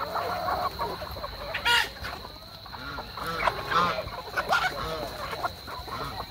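Fighting cocks kept for sale crow and cluck in a breeder's yard, several overlapping calls and a few louder crows standing out over a busy background of farm birds.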